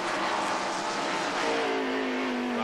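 Rusty Wallace's race car engine heard in-car at Bristol during the 1994 Goody's 500, a loud, constant roaring drone with a steady tone rising slightly in pitch, close and unbroken.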